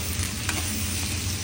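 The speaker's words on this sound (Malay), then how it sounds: "Goreng tahu tempe tadi supaya dia rasa-rasanya sikit garam dia tu." Tofu and tempeh frying in hot oil, a dense continuous sizzle that fills the whole clip, close and steady with no talk.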